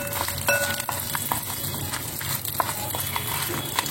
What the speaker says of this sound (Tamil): நல்லா செவக்க வறுக்கணும் உளுத்தம் பருப்பை.